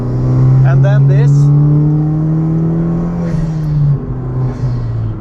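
A Honda Civic Type R FK2 engine revs up in a long rising then steady drone, loud and close, with a voice talking over it toward the end.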